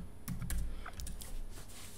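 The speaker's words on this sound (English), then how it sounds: "put in your local password" A password is typed on a Mac keyboard, a short run of quiet, quick key taps heard up close with no talking.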